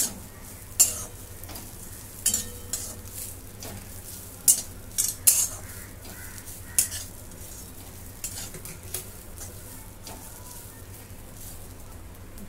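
Fresh and dried coconut roasting in a pan for Saoji chicken masala, with a faint steady sizzle broken by sharp scraping stirs and clinks of a spoon against metal at irregular intervals, no talking.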